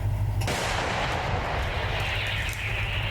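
Continuous heavy artillery fire booming in the distance near Kupiansk, Ukraine, a steady rumbling roar with a sharp low thud near the start.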